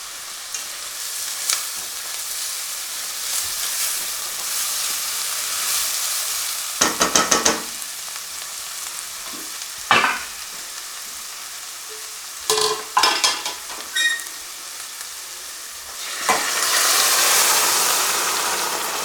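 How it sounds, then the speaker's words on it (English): Onion sautéed in a pan over high heat gives a steady background sizzle, broken by several short bursts of stirring and scraping against the pan; no one speaks. "just want to saute the onion quickly for about a minute or two on a high heat"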